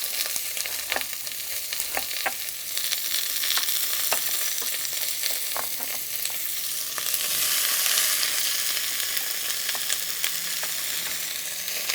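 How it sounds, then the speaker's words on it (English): Vegetables for butternut squash soup sauteing in a pan, a steady hiss of sizzling with occasional sharp taps and scrapes as they are moved around, the sizzle swelling louder toward the end. "all of our vegetables, we want to saute this for about 10 to 12 minutes."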